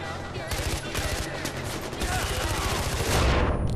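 Rapid automatic fire from a dashboard-mounted vehicle gun in Far Cry 4, a loud sustained stream of shots that starts after half a second and keeps hammering to the end, with engine rumble underneath.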